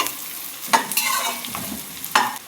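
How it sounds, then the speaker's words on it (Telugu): Green chillies fry in a hot pan with a steady sizzle, broken by a few sharp scraping stirs of a spoon against the pan; close and fairly loud with no voices. "ఇప్పుడు పచ్చిమిరపకాయలు కూడా వేసాను బాగా ఫ్రై అవ్వాలి"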